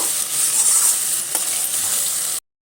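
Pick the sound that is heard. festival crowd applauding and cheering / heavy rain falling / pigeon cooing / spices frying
spices frying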